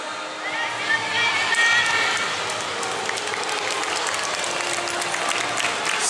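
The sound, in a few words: cheering and applause from spectators along the street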